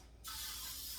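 Cooking spray from an aerosol can misted onto baking pans for banana bread, a sudden close hiss that starts sharply and holds steady and loud to the end.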